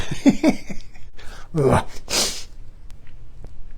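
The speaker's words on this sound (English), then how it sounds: "I got to sneeze." A voice speaks briefly, then a single loud, sharp sneeze bursts out up close, followed by quiet.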